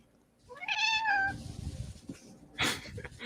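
A house cat gives one clear, rising-and-falling meow nearby, followed by scattered rustling and a sharp noisy burst, with no talking over it.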